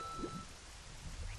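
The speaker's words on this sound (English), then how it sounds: "I can't believe it's raining already." Rain falls in The Legend of Zelda: Ocarina of Time, a soft, steady hiss of drops on the ground, faint and unbroken over a short stretch with no speech.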